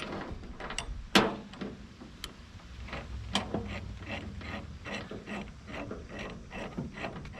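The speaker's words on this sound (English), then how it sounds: "Spooling it out so I have enough adjustment to tighten the chain." A chain binder being spooled out by hand while hauling a Bobcat 843 skid loader, a close series of irregular metallic clicks, ratchet ticks and clanks with a sharper knock near the start.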